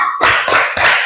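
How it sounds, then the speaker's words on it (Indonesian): A classroom of students claps the 'tepuk hebat' chant together, three loud, close bursts of group clapping in quick succession with no talking. "Tepuk hebat untuk kelompok 2."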